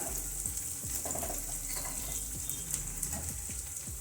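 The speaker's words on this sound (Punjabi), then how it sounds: "ਇਹਨਾਂ ਨੂੰ ਮਿਕਸ ਕਰ ਦਵਾਂਗੇ ਪਿਆਜ਼ਾਂ ਦੇ ਨਾਲ" Crushed red chillies are stirred into onions frying for a summer saag with chana dal, a steady close sizzle and hiss with a spoon scraping the pan at a regular rhythm.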